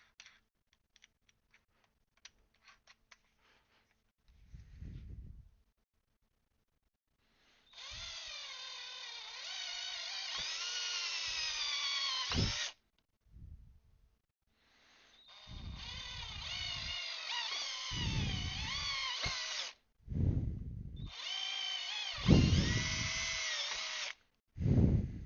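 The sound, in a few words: small electric drill drilling pilot holes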